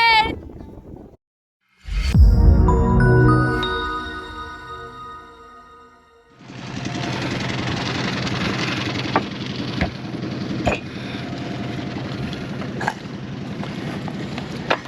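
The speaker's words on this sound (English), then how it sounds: "So I have my bow thruster / auxiliary engine." A sailboat's auxiliary engine runs at a remote anchorage in the Solomon Islands, a steady low drone mixed with wind noise and water, after a brief burst of louder noise near the start.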